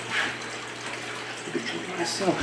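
Fresh water pours into a reptile's water dish, a steady splashing gush close by, fairly soft and continuous over a low background hum.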